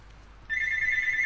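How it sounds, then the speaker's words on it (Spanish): A telephone rings in The Last of Us Part II, a sudden loud electronic trill that cuts in abruptly and keeps buzzing steadily over a quiet background. "qué susto el teléfono otra vez"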